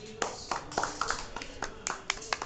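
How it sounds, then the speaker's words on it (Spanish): Applause for young women at a fashion draft show, a small scattering of hand claps at uneven intervals, fairly faint and close, with no steady crowd roar. "Un aplauso para las señoritas."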